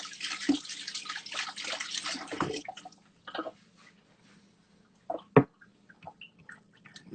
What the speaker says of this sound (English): We're gonna wash my hands.